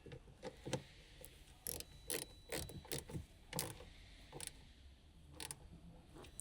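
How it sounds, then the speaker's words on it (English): A small ratchet fitted with a T25 socket clicks in quick, uneven bursts of close, dry ratcheting as it tightens the brake fluid reservoir's mounting bolts on a Ford Escape, with no voices. "Use a small T25 socket with a small ratchet."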